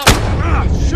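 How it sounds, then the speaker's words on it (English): A grenade blasts in the video game Call of Duty Modern Warfare during a hardcore team deathmatch, one sharp, loud explosive crack followed by a short rumbling tail. "Grenade out!"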